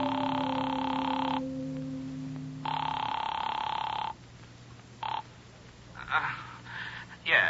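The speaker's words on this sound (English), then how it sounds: "The phone rang a long time before he answered." Old telephone bell ringing in a 1951 radio drama, a Night Beat broadcast: long repeated bursts of ringing with pauses between them, loud and close, over a low sustained musical tone, before the line goes quiet.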